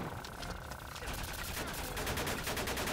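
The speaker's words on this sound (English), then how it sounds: "Heavy machine gun." Heavy machine gun fire from the video game Disaster: Day of Crisis rattles in fast, steady bursts that grow louder toward the end, layered over game noise.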